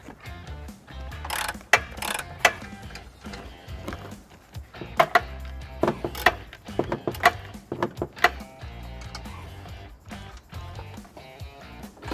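A ratchet removing bolts from the carbon canister of a 2013 Hyundai Elantra GT during a trailer hitch installation, close, irregular bursts of clicking and metallic rattles, alone without talk.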